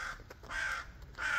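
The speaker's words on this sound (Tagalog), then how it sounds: "Tingnan mo yung ibon." A crow caws outdoors, giving three harsh, clear calls spaced evenly apart. The calls are moderately close and heard alone, with no talk.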